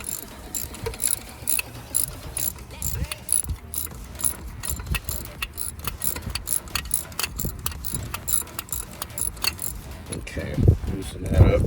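A ratchet wrench loosening a bolt during alternator replacement on a 2004 Nissan Maxima 3.5 L, a fairly faint, rapid clicking run that continues through most of the stretch with metallic clinks near the end.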